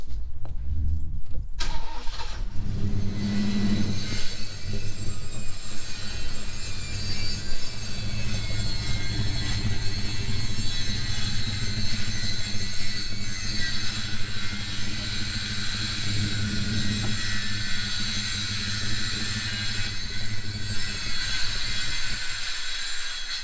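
A car engine being tested for gearbox function before registration, a loud continuous rumbling idle that starts after a brief clatter and holds steady with faint revving shifts, no speech.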